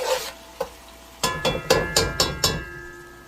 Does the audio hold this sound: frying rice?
yes